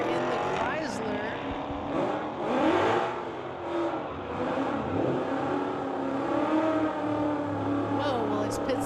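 A Chrysler drag racing car at a street-legal drag event roars and accelerates down the strip, its engine note climbing steadily, with voices audible over it.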